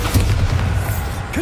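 A Bombarda explosion spell going off in Hogwarts Legacy, a deep booming blast with a heavy low rumble that holds through the short moment, loud and close.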